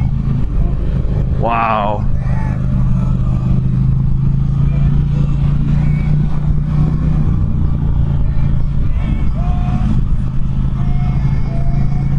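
An Indian Challenger motorcycle rumbles steadily and close throughout while being ridden, its low engine drone continuous under wind noise, with a brief spoken exclamation near the start.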